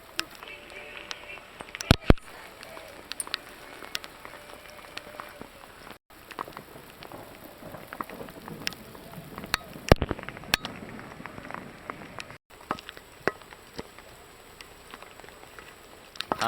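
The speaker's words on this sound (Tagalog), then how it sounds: "Thunderstorms." Rain falls steadily through a thunderstorm on a mountain backpacking trip at San Gorgonio, a continuous patter with a few sharper knocks and brief gaps, while voices murmur faintly underneath.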